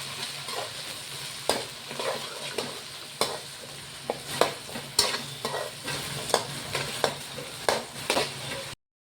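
Potatoes, carrots, onions, mustard seeds, bay leaves and curry leaves sizzle steadily in a pot, with repeated sharp scrapes and clinks of a spoon stirring at an irregular rhythm, close and moderately loud.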